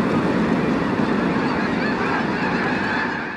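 A dense, loud chorus of snow geese honking around California rice fields, countless overlapping calls forming a continuous roaring din that fades slightly at the end.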